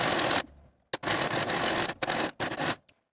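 A serger sewing machine runs along pocket edges in loud, fast bursts broken by short pauses, close up and with no talk.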